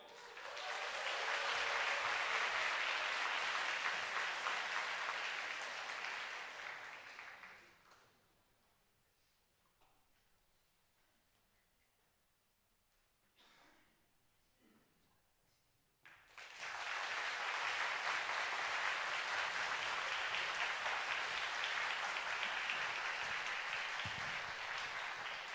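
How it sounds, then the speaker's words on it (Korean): A concert hall audience at a Valentine's Day musical-versus-opera show gives two long bursts of loud applause as the performing teams walk in, separated by a hushed lull with scattered small noises. "각 팀 들어올 때 큰 박수로 맞이해 주세요."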